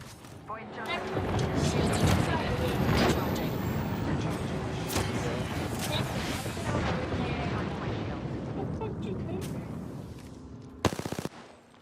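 Dense, sustained automatic gunfire from the Apex Legends video game rattles on for most of the stretch. It stays loud and continuous, with a sharp burst near the end, and player chatter sits underneath.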